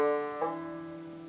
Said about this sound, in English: when I hammer on from the open fourth string to